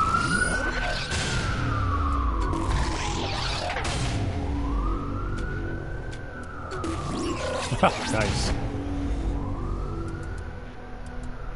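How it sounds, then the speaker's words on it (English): A wailing police siren in the video game Saints Row 4 rises and falls repeatedly in long sweeps, loud and steady, with a voice speaking briefly over the din. "Wouldn't be a stream without sirens."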